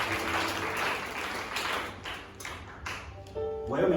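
A church congregation applauding, a wash of clapping under a speaking voice that fades and breaks into scattered claps before a voice carries on.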